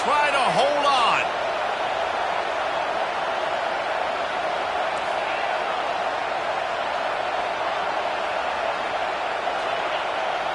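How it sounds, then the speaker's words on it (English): Steady, loud stadium crowd roar from a Madden football video game on second down, holding constant throughout after a brief voice-like call at the very start. "This crowd even louder now on second down as they try to hold on."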